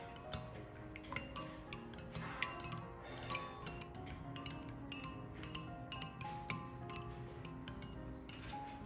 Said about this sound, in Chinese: 用温水冲开，均匀搅拌就能喝